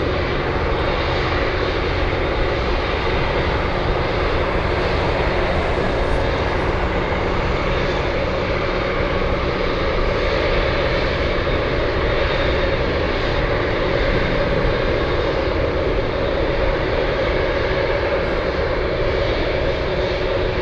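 An Ace Beechcraft 1900 turboprop taxis toward the runway at Anchorage, its engines producing a constant, loud, broadband drone with a steady propeller hum throughout, and no voices.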